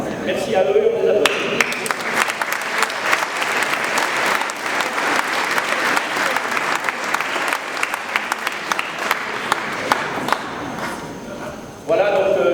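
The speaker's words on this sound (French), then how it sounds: "merci à eux, on les applaudit." Audience applause at a town New Year's greetings ceremony in Grabels, a dense steady clapping from a crowd filling the room for about eleven seconds before abruptly dying down near the end.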